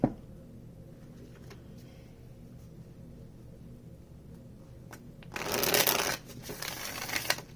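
Quiet room hum, then a burst of tarot cards being shuffled up close for about a second, followed by softer shuffling.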